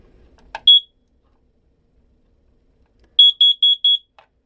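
A short electronic beep, a pause, then four quick, shrill beeps from a carbon monoxide alarm being tested aboard a narrowboat, in a rapid, even sequence, loud and close.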